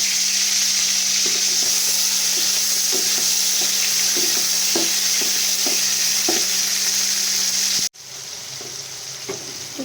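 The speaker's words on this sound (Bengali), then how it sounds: "সেই নুন দিয়ে মাখানো চিংড়িগুলো আমি এখানে তেলের মধ্যে দিয়ে দেবো। তারপর এগুলো ভালো করে লাল লাল করে ভেজে নেব।" Salted shrimp frying in hot oil, a loud dense sizzle with rhythmic clicks of a spatula that drops off abruptly, then quieter bubbling continues.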